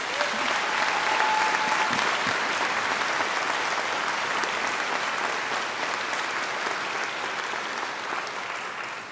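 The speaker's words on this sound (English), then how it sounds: "I think she deserves another great round of applause." Sustained, dense applause fills a hall at a university graduation ceremony, loud and steady throughout before easing slightly at the end.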